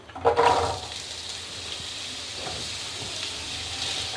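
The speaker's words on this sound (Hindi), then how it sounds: "और 3 मिनट के लिए हम आलू को इसमें फ्राई कर लेंगे ऑयल में।" Cut potatoes drop into a pan of hot oil with a brief loud splash, then settle into a steady, even frying sizzle and hiss that carries on alone.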